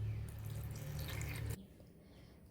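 Water runs from a tap into a mixing jar of soaked lentils for dal paste, a steady close pour for about a second and a half before stopping into near quiet.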